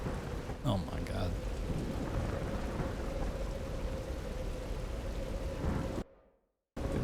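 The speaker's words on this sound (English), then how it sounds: "There's a storm." A thunderstorm with steady heavy rain and rolling thunder in the Tomb Raider video game, a dense continuous roar throughout that cuts out abruptly near the end, with brief faint voice-like sounds early on.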